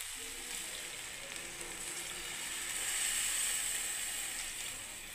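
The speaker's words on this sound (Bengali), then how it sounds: "এবার পরিমাণ মতো জল ঢেলে দিচ্ছি বন্ধুরা" Water poured into a hot pan of ridge gourd and paneer curry, giving a steady, close hiss and sizzle that swells slightly in the middle, with no talk over it.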